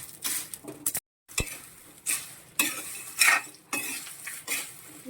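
Fried peanuts are stirred into a cassava flour mixture, a spoon scraping and clinking against the vessel in repeated close strokes with a light rustle and brief pauses between them.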